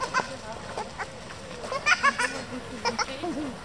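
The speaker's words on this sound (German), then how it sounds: "Das ist gar kein Schaf hier. Ein Ziegenbock oder sowas." A billy goat gives a few short, close bleats in quick succession over a low outdoor murmur.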